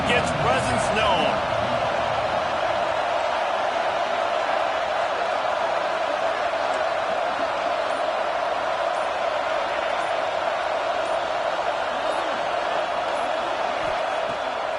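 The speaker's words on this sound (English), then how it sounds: "This crowd ready to make its presence known." Stadium crowd at an Oregon versus Ohio State football game, a loud, steady roar of many voices filling the background, with a commentator talking over it the whole time.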